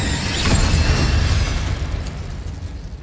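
A fire spell blast in the Hogwarts Legacy video game, a loud close whooshing burst of flame that swells quickly and then fades into a roaring rush over a few seconds, with no voice.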